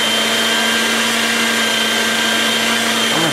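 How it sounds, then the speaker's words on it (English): Electric meat grinder running steadily while grinding pork for bratwurst, a loud continuous motor whine with a constant hum that holds unbroken from start to finish. "Just let your grinder do its thing"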